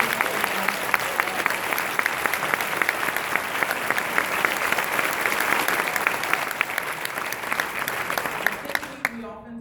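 A large audience gives a sustained round of applause after an emotional performance, dense and steady clapping filling the space before it cuts off near the end.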